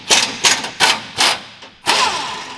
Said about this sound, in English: He's unbolting the cross member bolts right here.